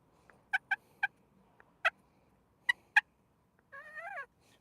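A slate turkey call, played for cutting and purring, gives a series of sharp, clucking yelps in short bursts, followed by a longer wavering run of notes at the end, close and clear with no talk.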